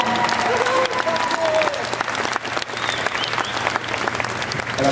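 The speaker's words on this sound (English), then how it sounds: "would you give a round of applause to Justin Gusky?" Concert audience applauding a mellophone player at a university winter band concert; loud, sustained clapping fills the space evenly, with a voice speaking over it partway through.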